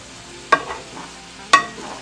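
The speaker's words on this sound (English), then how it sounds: "So I'm just going to stir this together A little bit of olive oil." Two sharp, close scraping strokes stir sliced peppers, cabbage and other vegetables with spices and olive oil, each followed by a soft sizzle, with quiet pan noise between them.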